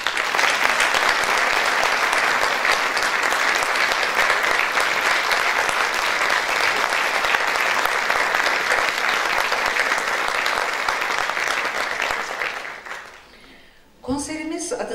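Long, dense applause fills a concert hall for a choir performance, many hands clapping steadily before dying away, followed by a voice speaking.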